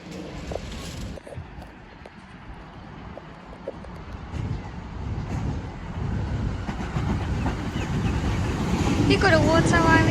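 Commuter train pulling into Flemington station platform bound for Central, a steady rail rumble building in loudness over the clip, with a platform announcement voice heard alongside.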